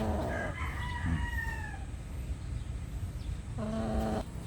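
A rooster crows in the distance, with a second crow near the end, over a steady background murmur.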